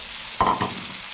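Spices, ginger and leeks hitting a hot pan, a sudden short sizzle with a stirring scrape, fairly soft and close, fading quickly after about half a second.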